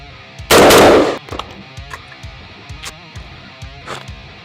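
A single loud gunshot rings out close by during chest rig practice with a safety being worked, leaving faint clicks and handling rattles of gear.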